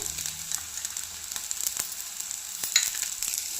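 Finely chopped green chillies sauté with golden-brown onions in a pan, a soft, steady sizzle with scattered small crackles and light ticks of a stirring spoon, fairly quiet throughout.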